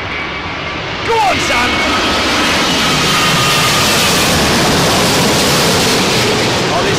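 Virgin Atlantic jet engines roar loudly and steadily at close range as a broad, continuous wash, with a short voice heard over the noise near the start.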